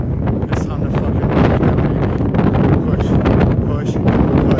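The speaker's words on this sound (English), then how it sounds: "It is windy. The wind's going against us." Strong wind buffets the microphone on an outdoor bike ride into a headwind, a steady, loud roar with gusty swells that never lets up.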